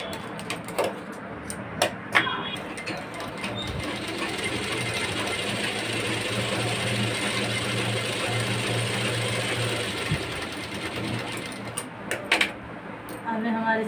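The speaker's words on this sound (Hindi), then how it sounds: "निशान लगा के हम मशीन पर सिल देंगे" A sewing machine stitches a blouse with a steady mechanical whir for about eight seconds, framed by clicks and handling knocks at the start and end, with a quiet voice talking around it.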